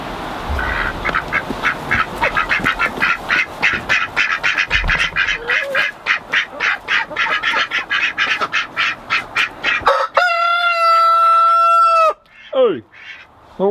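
At a homestead chicken coop, a rapid run of clucks and squawks from the flock builds into a loud, drawn-out rooster crow near the end, followed by a second shorter crow, heard close by.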